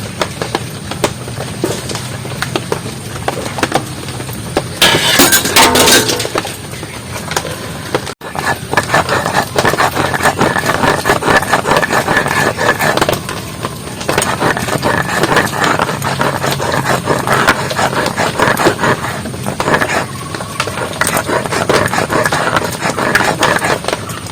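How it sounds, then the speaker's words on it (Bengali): Boiled okra is ground by hand on a stone grinding slab, producing a loud, continuous rough rubbing and scraping close by, with brief harder scrapes and a short pause near the middle. "ভেন্ডিগুলো সব ঢেলে নিচ্ছি শিলনোড়াতে আর শিলনোড়াতে বেটে নেবো"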